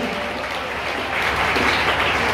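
Congregation at a Tuesday church worship service applauding for Jesus, a dense steady wash of clapping that swells slightly louder in the second half, with no voices over it.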